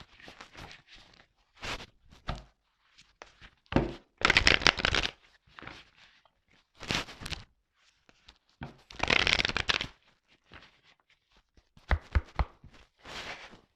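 A deck of playing cards being shuffled and handled at a table, with repeated short riffling bursts separated by pauses, close and fairly quiet.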